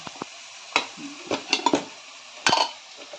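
A spoon stirs homemade garam masala, turmeric and asafoetida into a freshwater crab curry in a metal pot. There are a few sharp scrapes and clinks against the pot, spaced irregularly, close and fairly loud, with no talking.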